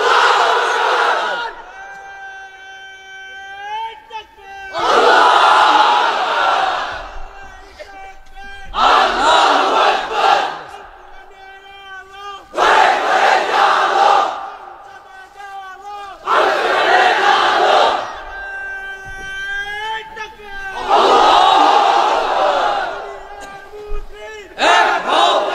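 A huge crowd at a religious gathering chants the takbir in loud, unified bursts, roaring voices rising and falling about every four seconds, alternating with a single leader's call.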